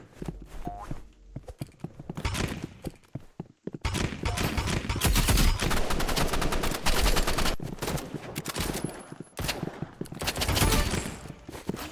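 Sustained bursts of rapid gunfire from a powerful weapon in the shooter game Rivals, loud and dense for most of the stretch, with brief pauses between volleys.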